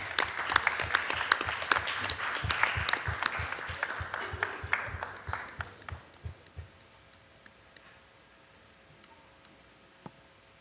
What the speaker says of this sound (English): Again, a round of applause for the new manager, Miss Newton.